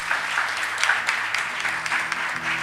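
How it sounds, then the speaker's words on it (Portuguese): A church congregation claps together, a dense, continuous round of applause close by that holds steady for a few seconds without fading. "Uma salva de palmas para eles"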